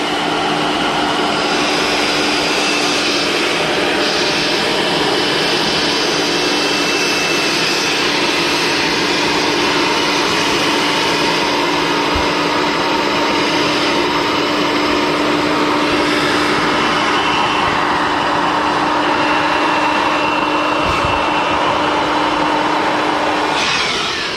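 Air rushes loudly and continuously through an opened valve into a Scout 430 inflatable boat, a steady broadband roar with a faint constant hum underneath, close up and uninterrupted for the whole stretch.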